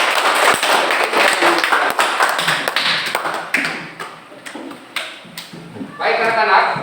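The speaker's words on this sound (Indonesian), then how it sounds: "Tepuk tangan untuk Putri." Children clap together for a classmate named Putri in a classroom, a dense patter of hand claps that thins out toward the end, with voices chattering over it.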